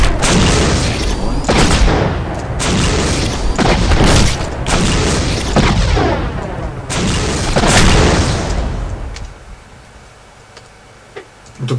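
Repeated loud gunshots and explosive booms from the video game Postal 2: Apocalypse Weekend burst in quick succession at a military base, then fade into a quieter tail with one last sharp pop.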